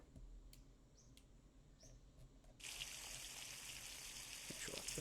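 Water running from a tap into a 5-litre container in The Long Drive video game, starting suddenly partway through as a steady hiss after a few faint clicks, quiet overall.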